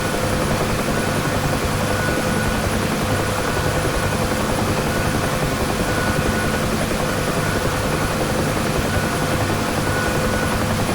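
A UH-1 Huey helicopter in the DCS flight simulator, its engine and rotor making a loud, steady, unbroken drone and whine that holds alone for the whole stretch.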